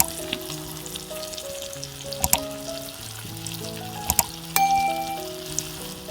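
Turmeric, coriander powder, cumin powder, Kashmiri chilli powder and ginger paste fry in a pan for bitter gourd and potato curry, with a soft continuous sizzle, a few sharp clinks, and background music.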